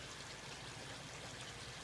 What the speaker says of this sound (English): This is a very small siphon, but it operates at about 200 liters per minute.